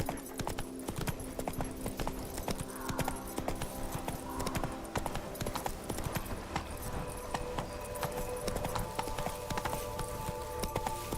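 Roach, a horse in The Witcher 3, trots along a road, steady rhythmic hoofbeats clip-clopping continuously at moderate volume under faint game ambience.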